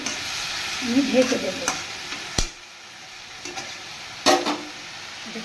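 Figs and potatoes frying in a pan, a soft crackling sizzle with a few sharp stirring knocks and clatters, and someone speaking briefly over it.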